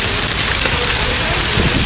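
Hail pours down during a storm in a town square, a loud, dense and constant patter and rattle of ice hitting the ground and surfaces nearby.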